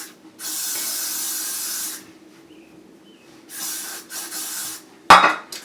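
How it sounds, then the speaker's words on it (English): Holding spray misted onto hair after a line-up, heard as two separate steady hissing bursts, the first about a second and a half long, then a shorter one, each followed by quiet, and ending in a sharp close clatter. "I want to put some holding spray to just lock it in"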